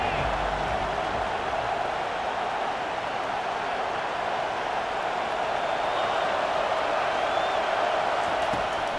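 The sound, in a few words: home football crowd cheering loudly on third down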